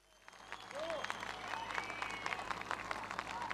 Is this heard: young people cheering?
yes